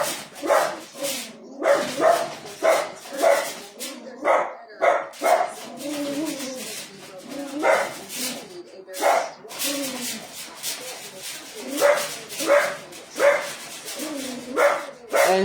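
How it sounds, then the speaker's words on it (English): A dog indoors barks over and over in rhythmic bursts, close and fairly loud, with brief gaps and a few whimpering or voice-like sounds in between. "he knows the dog is going to bark"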